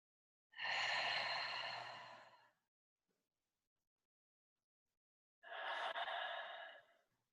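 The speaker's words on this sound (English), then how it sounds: "take a few deep inhales and exhales to arrive" Two long, deep breaths drawn slowly through the nose or mouth, each lasting about two seconds and separated by a pause, close and clear against a silent background during a guided relaxation exercise.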